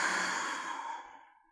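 A single long exhale during a slow yoga twist, soft airy breath that fades out over about a second and a half.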